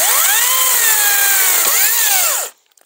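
A Makita XCU06 18V battery chainsaw with a 10-inch bar cuts through a tree branch, a loud close whine that dips slightly in pitch under load, then stops abruptly and leaves near silence.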